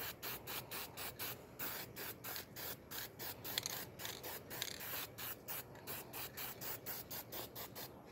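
A spray gun puts a first coat of paint onto an old, dirty table in a series of regular short hissing bursts, each spray pass followed by a brief gap, fairly close and steady.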